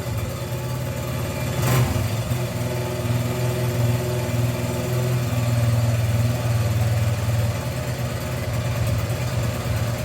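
A 1981 Honda XR100 motorcycle on half choke runs steadily after a first kick, a close, continuous single-cylinder idle with a brief sharp noise near the start and a slight rise in revs partway through.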